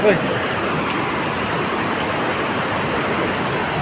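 Devkund Waterfall in Similipal, Mayurbhanj, Odisha, with water rushing forcefully, a loud continuous broadband roar close by, steady from start to end with no pauses.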